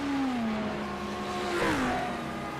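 GT3 race cars crossing the finish line at Sebring in a racing game: a loud, sustained engine drone whose pitch slides downward, with a brief swell as another car passes close by.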